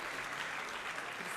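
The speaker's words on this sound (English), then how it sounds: "Please give him a round of applause." Steady applause from a crowd at a fundraiser, a dense, even patter of many hands clapping without a break.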